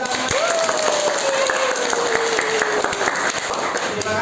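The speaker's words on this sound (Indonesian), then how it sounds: "Tepuk tangan untuk kita semua." A classroom of Islamic religious education students claps together, a steady, fairly loud round of applause lasting a few seconds, with a faint tone gliding downward underneath.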